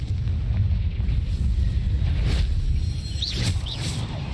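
A rumbling blast from the Confringo fire spell in Hogwarts Legacy, a deep continuous roar with two short whistling chirps above it near the end.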